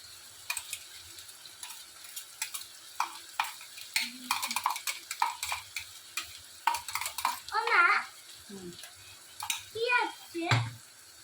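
Garlic, ginger and onion frying in a pan for egg tadka, with soft stirring scrapes and light sizzling in short bursts alongside occasional utensil ticks, close and fairly quiet.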